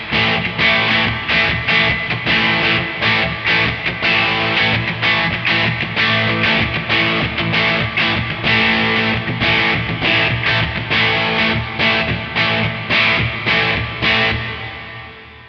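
Electric guitar played through a floor setup with distortion and reverb, a dense, steady stream of sustained overdriven chords and notes running loud throughout, ringing out briefly at the end.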